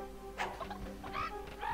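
A rooster in the game Discworld II squawks and clucks in a few short, harsh calls close by, each burst rising briefly over a steady low background hum.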